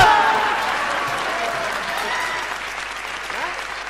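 Audience applause at a Hindi comic poetry recital, a steady dense clapping that swells at the start and then slowly fades while continuing throughout, with crowd murmur underneath.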